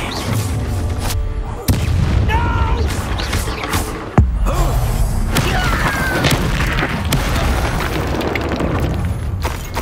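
Incendio fire spell in the Hogwarts Legacy video game lands as loud booming bursts of whooshing flame, with sharp impacts at intervals amid continuous roaring battle noise.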